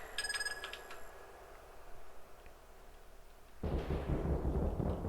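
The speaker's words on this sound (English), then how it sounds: "That storm doesn't seem very far away, considering the delay between the lightning and the thunder." Thunder from a storm in The Colonel's Bequest, a broad rumbling roll that swells in loudly near the end after high ringing game tones fade, no voices over it.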